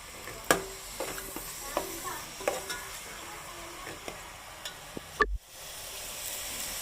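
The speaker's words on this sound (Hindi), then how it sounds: "ये देखिए मैंने अदरक लहसुन के बाद अब हमने कीमा डाल दिया। जैसे हमारा कीमा भुन जाएगा" Chicken mince fries in a pan with ginger and garlic, a steady soft sizzle under repeated spoon taps and scrapes, then a louder clatter near the end.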